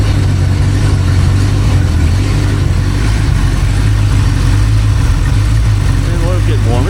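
A rebuilt Ford 289 V8 runs steadily on a home-made engine stand, its low, even idle close and continuous throughout, with a faint higher whine near the end.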